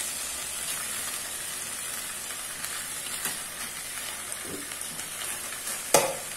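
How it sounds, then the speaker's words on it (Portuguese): Onion sizzles steadily in a hot frying pan, a faint continuous hiss with a few small pops and one louder clatter near the end, heard alone without talk. "Deixa eu dar uma fritadinha de cebola."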